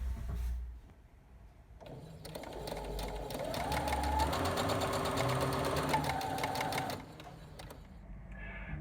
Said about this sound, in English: what I'm going to do is just sew that together